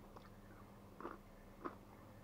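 Two crisp crunchy bites into a salty pickled cucumber, a soft one near one second and a sharper one at about 1.7 seconds, close and fairly quiet over a low background hum.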